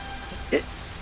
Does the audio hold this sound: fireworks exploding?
no